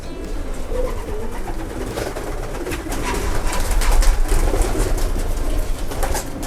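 Racing pigeons coo steadily inside a loft holding young birds, a continuous soft chorus of overlapping calls at moderate level with a low rumbling background hum throughout.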